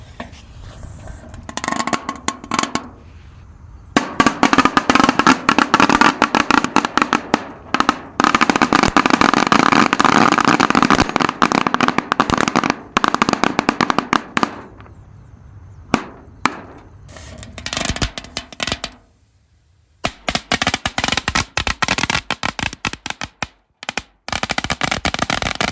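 Dino egg and lighter firecrackers go off inside a jar as dense volleys of sharp, rapid crackling bangs, loud and close, in bursts separated by brief silences, with no voices.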